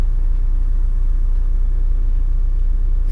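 Strong wind roars around a truck on a cross-country haul during a tornado warning, a loud, unbroken low rumble with no letup.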